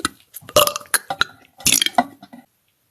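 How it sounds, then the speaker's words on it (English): A girl burps several times in quick bursts, loud and close, with brief pauses between them and a short wet gurgle as the sounds trail off. "All my burps are dedicated to you."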